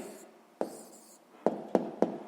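A pen writes an answer on paper at close range, a few faint scratching strokes punctuated by four sharp taps, quiet and without speech.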